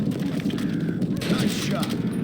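Gunfire in the Red Dead Redemption video game, a quick burst of shots on a family farm as a herd is driven into a pen, loud over steady game ambience with a voice talking.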